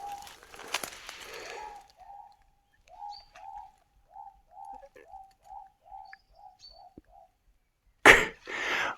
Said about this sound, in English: What kind of bird was that?